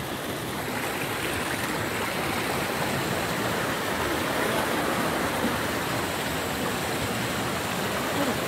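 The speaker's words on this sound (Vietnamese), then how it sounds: "suối giữa rừng nguyên sinh này" Steady rushing water of a stream in primary forest at Chư Mom Ray National Park, continuous broadband flow, close and even throughout, with no talk.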